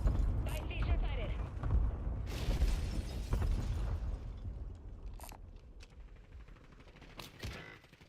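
Airstrike explosions in the video game Call of Duty Warzone. Heavy low booms and rumbling blasts are followed by sharper gunfire cracks that fade out, with speech present during the barrage.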